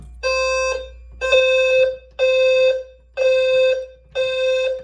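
A smoke alarm in a home basement system test sounds five loud, evenly spaced electronic beeps, each about a second long with short gaps, before it settles into its temporal pattern.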